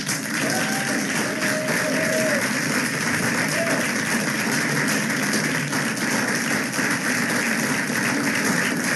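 Steady applause from a city council audience after a unanimous vote, a continuous even wash of clapping that lasts throughout, with a voice briefly under it.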